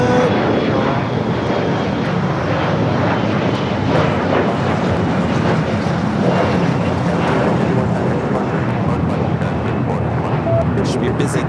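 A Boeing 747 begins its takeoff roll on runway 25 left at LAX, a loud, continuous, close jet engine roar that holds steady throughout, with a commentator talking over it.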